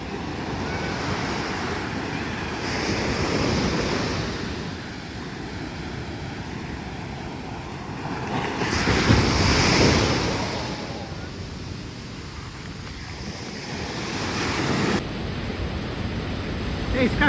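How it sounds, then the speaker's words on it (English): Ocean waves on Chaweng Beach, Koh Samui, rolling in as broad swells of surf that rise and fall every few seconds, with wind rushing across the microphone. "So we're gonna get the waves, the dumps."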